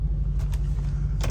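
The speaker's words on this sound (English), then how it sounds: "let's get out of the truck now" Getting out of a truck: a steady low engine idle fills the cabin while a few brief clicks and rustles of movement break through near the end.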